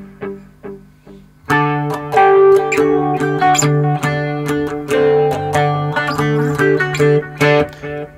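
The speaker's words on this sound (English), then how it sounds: "I haven't got a flanger pedal, but I've got a phaser," Electric guitar played through a phaser with chorus added, for a cover on a three-string guitar: a few soft plucked notes, then loud sustained wobbling chords and riffs ringing on alone.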